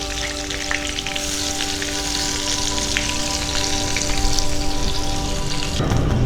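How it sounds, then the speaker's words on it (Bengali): Eggplant slices frying in oil, a continuous dense sizzle like light rain, with a steady hum beneath and a clatter near the end. "বেগুনগুলো উল্টে পাল্টে লাল করে ভেজে নেব।"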